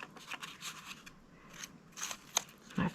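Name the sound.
tape being applied to cardboard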